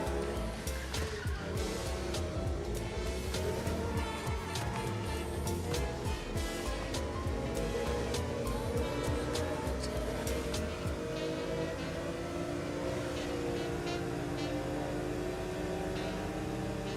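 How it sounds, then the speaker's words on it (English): A video game car's engine revs steadily through gear shifts, with the exhaust note rising and dropping in pitch, plus occasional tire squeal, loud and continuous throughout. "I love hearing the exhaust pipe when the fucking gear shifts."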